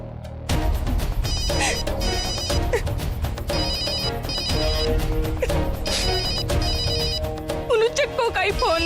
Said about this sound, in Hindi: चक्को का ही फोन है।